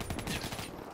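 Video game gunfire during a bomb-defuse style match, a quick burst of several close, rapid shots packed into under a second, heard loud and alone.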